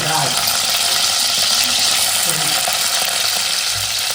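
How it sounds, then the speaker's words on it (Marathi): Loud, continuous hissing sizzle of spices hitting hot oil in a pan for a thin vegetable curry, with some faint voices mixed in underneath. "आणि हे बघा पातळ भाजी आई फोडणी घालते आता मस्त"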